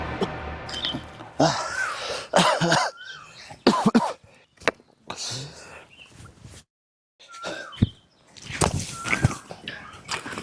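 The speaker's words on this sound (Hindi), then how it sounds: "भैया आपको कितनी खांसी आ रही है?" A man coughs repeatedly in harsh, irregular bursts with throat clearing between them, close by, broken by short silent pauses and a few faint background noises.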